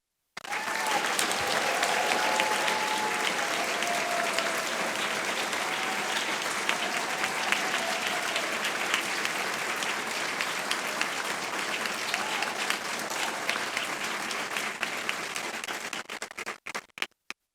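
Hearty, sustained audience applause for doctoral graduates at a convocation, a large crowd clapping steadily and loudly for many seconds before cutting off sharply at the end.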